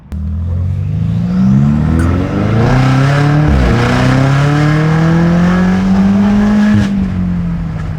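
Tuned BMW M5 F90 with software boost to about 800 hp revving hard: a loud, close engine roar whose pitch climbs and drops through repeated throttle blips, with crackling exhaust pops.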